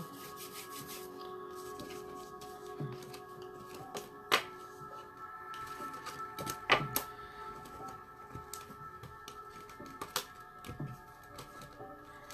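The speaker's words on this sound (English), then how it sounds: "Shuffling some cards, and then I'm going to go ahead and get to the next person" Cards are shuffled quietly during a tarot-style reading, giving soft riffling and scattered crisp taps and snaps over several seconds. The sound is faint and close, with no talking.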